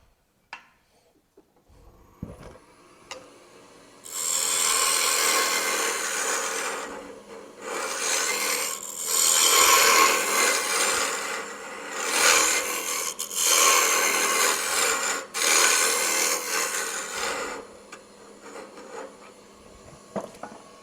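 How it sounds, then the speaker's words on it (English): Wood lathe turning a wooden ladle at a woodturners' meeting: loud, sustained broadband rasping of a tool cutting spinning wood, in four long bursts separated by brief pauses, close and with no talking. "Every time I'm sitting out there and this lathe is on, I think it's incredibly loud."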